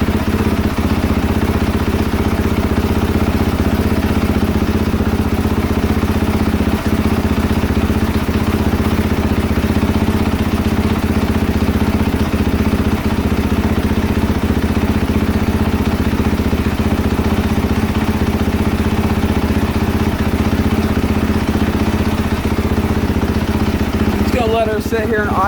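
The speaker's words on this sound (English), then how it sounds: "Let her get nice and warmed up." A KTM 450SXF motorcycle with a freshly repaired transmission idles steadily on its first heat cycle, without choke, while it warms up. The close, even single-cylinder thrum runs unbroken throughout, with a brief clatter near the end.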